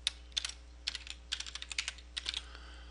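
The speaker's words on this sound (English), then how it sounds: "So we type that in as a title" A campaign title is typed on a computer keyboard as short bursts of close, light key clicks separated by brief pauses, with no talking.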